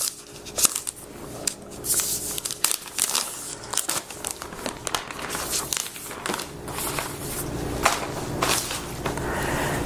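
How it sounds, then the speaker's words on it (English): Plastic wrap is peeled off a 15-inch Surface laptop box in a series of close crinkles, tearing rips and crackles, irregular and bursty over about ten seconds. "So let's just remove the plastic wrapper here again."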